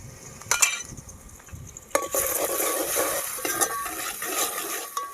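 Chopped onions and tomatoes sautéing in a pan for a chutney: a few clinks of a spoon against the pan, then a louder, continuous close sizzle with scraping stirs.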